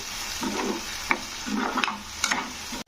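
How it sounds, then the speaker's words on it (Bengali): Tomato paste frying in a pan, stirred with a spoon: a soft steady sizzle under a few scraping strokes, cutting off abruptly at the end. "টমেটো পেস্টটাকে একটু নাড়তে হবে টমেটোর যে কাঁচা গন্ধটা যতক্ষণ না কাটছে"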